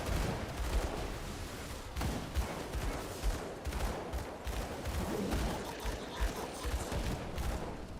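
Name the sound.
gunshots from the video game Grim Dawn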